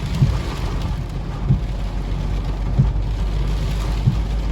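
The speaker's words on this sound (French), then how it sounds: "c'est monstrueux cet orage" A heavy thunderstorm in Indre-et-Loire, France, with steady dense rain drumming continuously and a few soft regular thuds at a distance, no talking.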